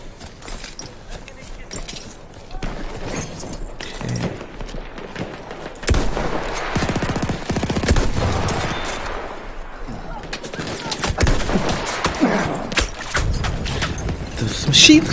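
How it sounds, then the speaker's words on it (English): Machine guns rattle in Battlefield 1 multiplayer, with dense bursts of gunfire building louder in the second half among scattered shots and battlefield noise. "Machine guns there"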